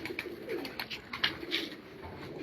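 A chirya-class racing pigeon on a Punjab rooftop gives soft repeated coos, several low throaty calls over about two seconds, close and fairly quiet, with faint chirps and background noise around them.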